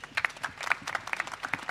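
A small audience at a murga carnival show claps for the children, a brief patter of scattered, uneven hand claps, moderately close and fairly quiet.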